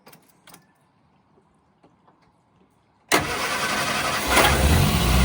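A Morris Minor Traveller's engine cranks and catches after a few seconds of quiet clicks and shuffling, then settles into a loud, steady idle that swells slightly near the end.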